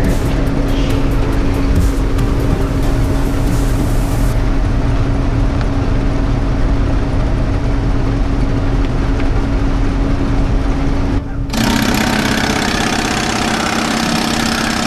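A paint shaker machine runs with a loud, steady mechanical hum and a constant drone, its character shifting abruptly near the end before carrying on.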